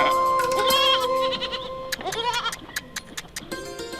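Goats bleat several times, loud and close, with overlapping calls early on and then a scatter of shorter sharp cries and faint noises.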